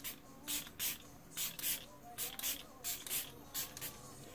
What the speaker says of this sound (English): So let's just spray our face now.